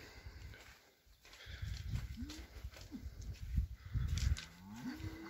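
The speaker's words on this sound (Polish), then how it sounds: "Krowy już sobie czekają." Cattle on a farm low repeatedly, several drawn-out moos at moderate distance over rustling outdoor background noise, with no talk.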